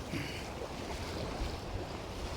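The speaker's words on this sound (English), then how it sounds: "Oh, wind's quite strong out here." Strong wind sweeping the Holderness coast off Withernsea, heard from a boat fishing near the breakers: a steady, close roar of gusts buffeting the microphone with surf washing beneath, continuous throughout and without talk.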